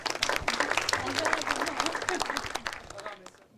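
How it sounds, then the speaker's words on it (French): An audience applauds a prize winner at an award ceremony, a dense burst of clapping from many hands that swells early and then gradually thins and fades out toward the end. "Donc on peut l'applaudir de nouveau."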